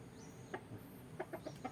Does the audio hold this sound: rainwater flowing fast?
no